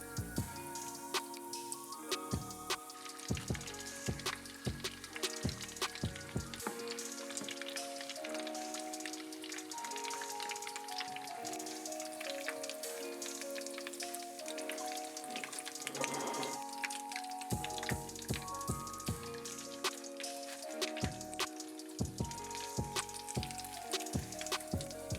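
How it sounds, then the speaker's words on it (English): Chicken thigh cutlets frying in oil give a steady, continuous sizzle that stays under upbeat music from start to finish. "Fry the cutlets in oil for 2 minutes."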